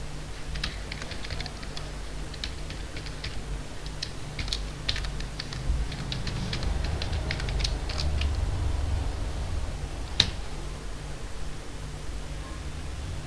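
Fast, steady clicking of keys on a computer keyboard as code is entered in an Oracle Forms PL/SQL editor, close and continuous over a low background hiss, with one louder tap near the end.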